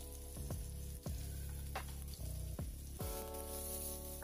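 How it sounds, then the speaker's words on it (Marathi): Onions with garlic and cumin frying in hot oil in a pan, giving a steady close sizzle broken by several stirring scrapes. "कांदा व्यवस्थित परतून घ्यायचा आहे."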